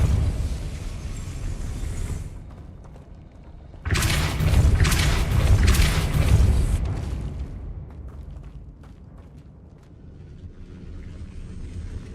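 A Depulso spell blast in a Hogwarts video game lands as a loud, roaring burst that swells suddenly, sustains for about three seconds, then fades into rumbling ambience, with no voices.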